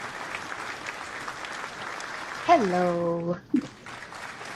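Audience applause as a senator is brought up at a Patients For Safe Access gathering, a steady crowd wash running throughout, with a voice speaking briefly over it partway through.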